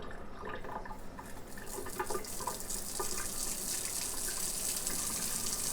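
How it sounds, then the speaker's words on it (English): Water from a cabin's plumbing gushes and rushes steadily out of a pipe as a smart shutoff valve reopens, a continuous close hiss with no talk. "so it's draining all that water out of the pipe, but it is off. And the valve's turning back on now."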